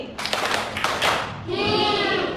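Classroom of fourth-grade pupils clapping together in an ice-breaking clapping game, a few sharp bursts of group claps followed by chanted voices, fairly close and loud.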